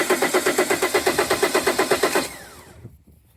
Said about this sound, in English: So the engine cranked